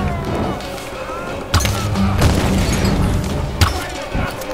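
Explosions in the video game Tomb Raider (2013), a dense run of loud booms and crashes with sharp blasts standing out over continuous rumbling action noise.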